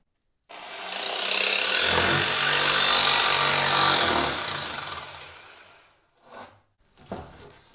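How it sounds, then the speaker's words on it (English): A hand saw works through plywood with a loud, close, rasping stroke of about four seconds, then trails off into a few short, quieter scraping strokes with no talk. "I would flip the saw over and cut on the back."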